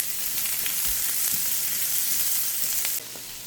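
Chopped onion sizzles in a tablespoon of olive oil in a pan, the start of a home-cooked succotash. The frying hiss is steady and close, then drops slightly near the end.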